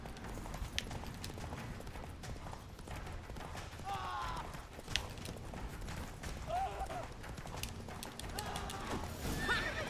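Geralt's horse Roach in The Witcher 3 neighs in short whinnies over a steady clip-clop of galloping hooves, with battle noise and voices in the background.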